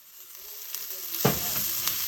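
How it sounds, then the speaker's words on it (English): White parts of scallions hit hot oil in a pan for fried rice, a quiet hiss that swells into a louder sizzle, with a sharp scrape or clack midway, close and without talk. "I'm gonna put the scallions in the pan, the white part only, and just cook for"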